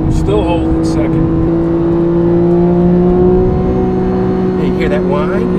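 A Porsche 911 GTS with PDK gearbox held in second gear under hard acceleration, its engine giving a loud, steady whine and drone that stays constant inside the cabin, with people speaking over it.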